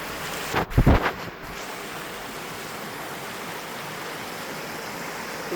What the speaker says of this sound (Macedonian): под планинава оди и рекчево течи кај пештерата Пешна Македонски Брод